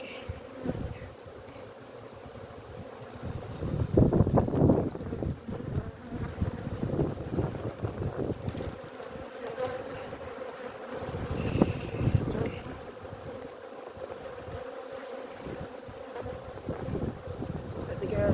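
Honeybees buzzing around open beehives outdoors, a dense continuous drone of many bees with individual bees passing close to the microphone, plus some wind rumble and handling noise throughout.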